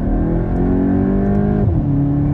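Volkswagen Golf GTI MK8 straining hard at around 80 mph under wheel spin, a loud, steady engine roar with a sharp pitch drop and recovery partway through, close and continuous with no talk.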